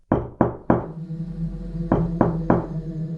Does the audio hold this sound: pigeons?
no